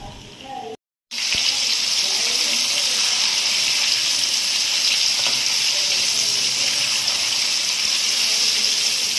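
Green chillies for mirchi bajji fry in hot oil with a loud, steady, dense sizzle that starts abruptly after a brief pause and continues close up without letting up.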